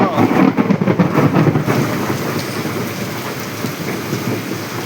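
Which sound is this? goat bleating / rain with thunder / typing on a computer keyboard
rain with thunder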